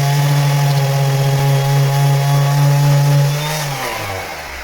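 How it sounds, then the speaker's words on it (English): A power sander works on a boat locker, giving a loud, steady high whine close by that drops in pitch and winds down toward the end, with no talk. "let's just see if I can sand this bit off"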